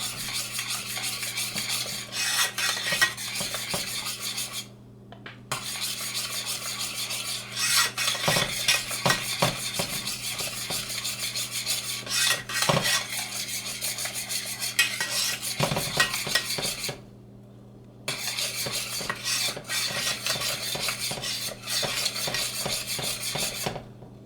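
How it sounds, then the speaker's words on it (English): Spoon scraping and stirring boiling fudge in a pot, a continuous rasping, rubbing sound with steady rhythmic strokes, close and moderately loud, broken by two short pauses. "And as I'm stirring it, I'm using a spoon like this."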